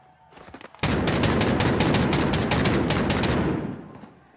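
A sustained burst of automatic gunfire from Call of Duty Warzone rattles loud and close for about three seconds, with rapid, dense shots and no talking.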